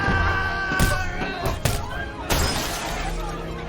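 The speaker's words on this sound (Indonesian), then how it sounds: "mereka yang berada di gerbong nomor 13 harus mati-matian berusaha memecahkan pintu kaca tersebut" A glass train carriage door is smashed in a tense film scene, with several sharp shattering crashes ringing out over a dense, noisy background of struggle and shouting.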